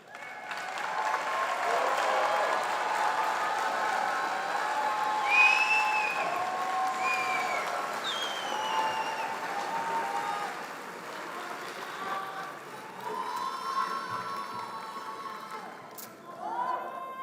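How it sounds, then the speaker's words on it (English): Steady, full applause from a large crowd at a law school graduation ceremony, with scattered whoops and cheers rising above the clapping before it gradually eases off. "Let's give our graduates one more very loud round of applause for what they've done."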